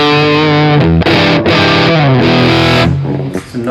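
An electric guitar through a Mini Bogner Ecstasy amp plays a loud, saturated classic rock tone. Distorted chords and notes ring for several seconds, close and alone, before fading.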